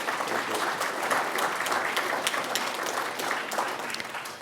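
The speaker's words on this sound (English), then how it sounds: "Yes, round of applause" A room of attendees at a First Nations assembly members' forum breaks into sustained applause, a dense, steady crackle of many hands that stays strong and even before easing slightly near the end.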